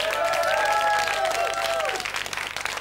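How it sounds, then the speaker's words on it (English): Applause from an audience under a sung or hummed tune, moderately loud and continuous, with crowd noise mixed in. "Give him a nice round of applause."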